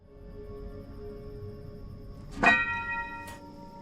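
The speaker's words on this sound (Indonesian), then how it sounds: "mulai membunyikan lonceng itu" A single bell struck once, ringing out with a bright metallic tone that lingers and decays, followed by a faint second tap; quiet background otherwise.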